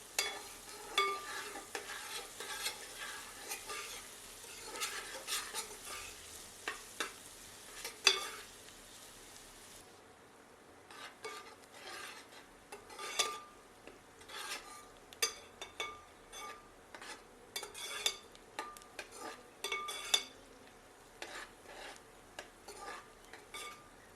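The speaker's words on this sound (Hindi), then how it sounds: "प्याज को मध्यम आंच पर 4 से 5 मिनट भूनते हैं" Onions frying over medium heat in a pan, with a soft continuous sizzle and frequent clinks and scrapes of a spoon stirring, heard faint and close.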